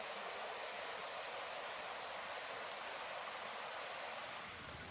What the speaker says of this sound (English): if you can hear, it's running water just down there